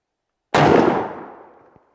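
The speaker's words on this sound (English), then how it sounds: "we're going to shoot that through our 663 5-step choke" A single sharp shotgun blast firing a Winchester Longbeard tungsten No. 8 turkey load, 2 1/4 ounce, through a 663 five-step choke, loud and close, with a long decaying tail outdoors and a faint click near the end.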